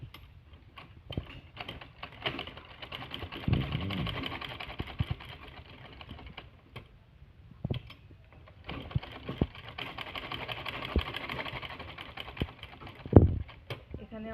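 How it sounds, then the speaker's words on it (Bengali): Sewing machine stitching a decorative latkan onto a blouse at home, a steady low whirring run with light mechanical clicks, briefly pausing midway, under faint background noise. "এইবার এখান থেকে এইভাবে পেলা করে আমরা সেলাই করব।"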